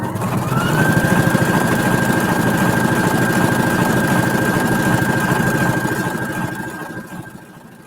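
A sewing machine stitches a decorative pattern in a half circle, running loud and close with a steady rapid mechanical whir and motor hum that slows and fades near the end.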